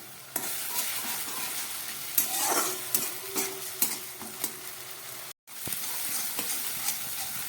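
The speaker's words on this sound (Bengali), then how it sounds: "পেঁয়াজটা অনেকটা ভাজা হয়ে গেছে, এবার দিয়ে দেবো এর মধ্যে 1 চামচ মতো পেস্ট করা পেঁয়াজ।" Onion paste sizzles in hot oil with already browned onions for an eggplant curry, a steady frying hiss broken by repeated sharp scrapes and taps of a spoon stirring the pan, close and alone.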